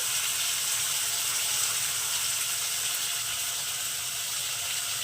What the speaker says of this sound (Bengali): তো জারটা ধুয়ে একটু জল দিয়ে দিলাম